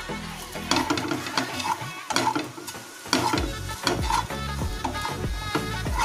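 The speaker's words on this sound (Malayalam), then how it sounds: "ഇനി ഇതിലേക്ക് ഏലക്ക പൊടിച്ചതും കൂടി ഇട്ടിട്ട് മിക്സ് ചെയ്ത് കൊടുക്കാം." Grated coconut filling with cardamom and sugar being stirred in a hot pan, a spoon scraping in quick uneven strokes over a soft sizzle, close and fairly quiet with no talking.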